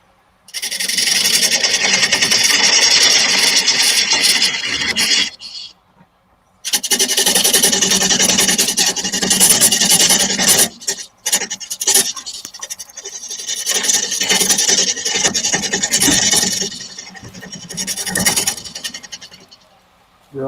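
A wooden tenon being shaped with a rasp: loud, close, coarse scraping strokes in long bursts, broken by a short pause near the middle and a few brief gaps later, with no voices.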